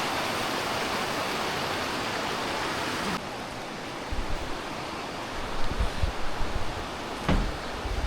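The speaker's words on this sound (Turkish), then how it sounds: "hem nehir akıyor" A river flowing at the foot of the Tian Shan mountains gives a steady broadband rush of water, loud and constant, slightly quieter partway through, with a few faint thumps and a brief knock near the end.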